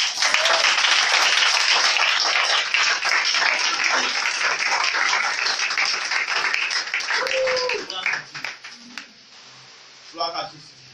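Congregation in a church breaking into loud, sustained applause and clapping with cheering voices, dense and continuous for about eight seconds before thinning out into scattered claps and voices.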